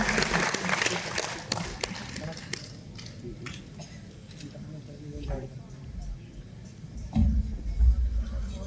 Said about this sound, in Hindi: एक बार जोरदार तालियों से पुनः सर का स्वागत करिए